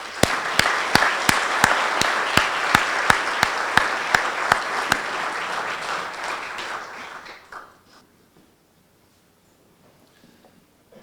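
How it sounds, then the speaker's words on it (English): A crowd applauds warmly with steady clapping that carries on for several seconds, then fades away into quiet. "And then a big round of applause for our survivor, Dale Hurling."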